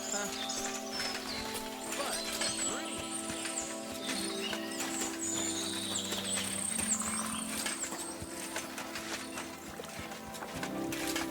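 Horses in the medieval fortress of the game Kingdom Come: Deliverance II, with steady hoof clip-clop and stirring under a constant outdoor ambience with rain-like patter, faint voices in the background.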